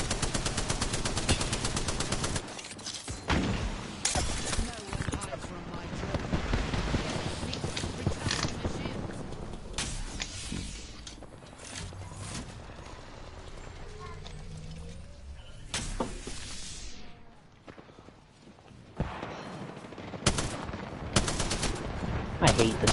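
Gunfire in the Apex Legends video game, with dense bursts of automatic shots and heavy impacts through most of the stretch, loud and close, with a quieter lull midway and talk mixed in.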